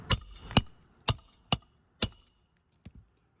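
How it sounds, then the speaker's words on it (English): Tool hammered into asphalt roof shingles: five sharp, evenly spaced impacts about half a second apart, close and loud, followed after a pause by two softer, quicker taps. "watch as I'm hammering this one in"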